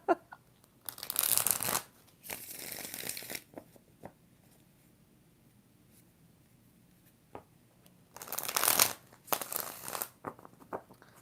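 Two bursts of card shuffling, a riffling flutter repeated twice with quiet pauses and small taps between, close up.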